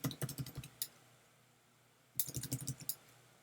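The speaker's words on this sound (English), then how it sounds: "And I'm using the bracket keys, of course, to make my brush smaller and bigger." Two quick bursts of bracket keys tapped on a computer keyboard while resizing a brush in image editing, close and crisp clicks about six to eight in each burst, separated by a quiet pause.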